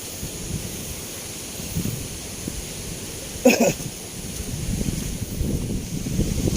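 Mild wind rushes against the microphone outdoors in the provinces after Typhoon Paeng, a steady low rumble with a brief sharp knock near the middle and gusts swelling slightly toward the end.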